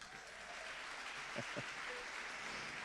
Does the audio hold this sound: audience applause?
yes